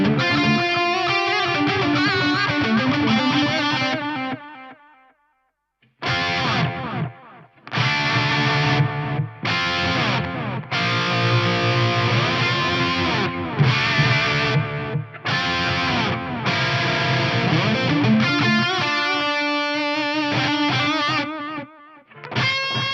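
An electric guitar plays through a Crazy Tube Circuits TI:ME digital delay with its tone turned all the way up, so the repeats come out bright and ring on behind the chords. Playing is loud and close in several bursts, with one short silent gap.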